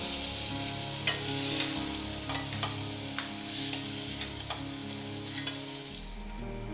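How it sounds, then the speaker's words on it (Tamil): Tomatoes sauté in a pan with a low steady sizzle, broken by occasional light ticks and taps from stirring, quiet and close with no speech. "தக்காளி இந்த அளவுக்கு நல்லா வதங்கி வந்ததும் நம்ம எடுத்து வச்சிடலாம்."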